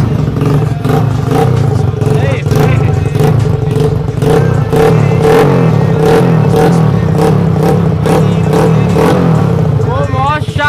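Honda CG motorcycle fitted with a car exhaust tip, revving loudly and continuously with repeated throttle blips and a steady idle drone underneath, with someone talking over it.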